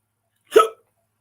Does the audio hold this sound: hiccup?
yes